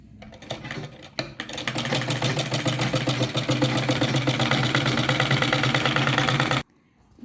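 A sewing machine stitching the front part of a blouse starts after a brief pause and clatters in a fast, even, loud rhythm for about five seconds before stopping abruptly into silence.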